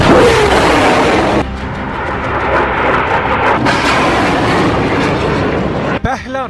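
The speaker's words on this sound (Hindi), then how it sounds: "फिर फायर हुआ दूसरा रॉकेट, इसके बाद लॉन्च हुआ तीसरा रॉकेट" Rockets fire with a loud, sustained rushing roar that lasts several seconds, ending in a sharp burst. A voice talks over the sound.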